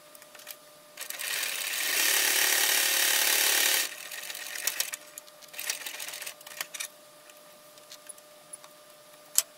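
A sewing machine top stitching through folded webbing strap for a bag: a steady, close, loud mechanical whir for about two seconds, then short stop-start bursts of slow stitching and clicks.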